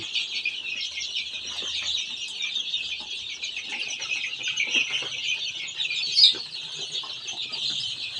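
Chickens clucking and murmuring continuously nearby, a busy flock of about 200 young chicks in a new coop, with soft overlapping calls and an occasional sharper squawk.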